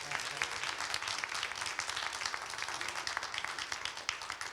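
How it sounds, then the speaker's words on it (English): A seated audience at a social work policy panel on homelessness and affordable housing applauds the panelists with steady, dense clapping at moderate distance and no voices over it. "can you give our panelists a round of applause?"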